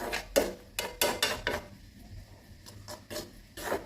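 Black sesame seeds being dry-roasted in a pan, giving repeated bursts of scraping and rattling as they are stirred, close and fairly loud, with quieter stretches between strokes.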